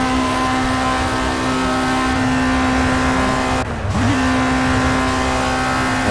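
A race car in the Project CARS racing game drives with a steady, loud, buzzing engine tone that drops briefly in a short gear-change lull before resuming its constant hum.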